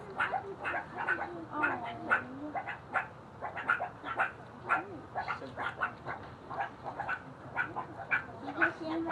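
Meerkats waiting to be fed let out a rapid run of short, high, chirpy barks and yips, close and fairly loud and overlapping at an impatient pace.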